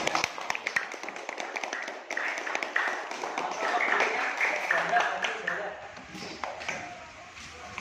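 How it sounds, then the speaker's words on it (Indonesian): Scattered clapping from a class of eighth-grade junior high school children, uneven and moderately loud, with voices chattering underneath as the applause rises and fades. "Ya, tepuk tangan."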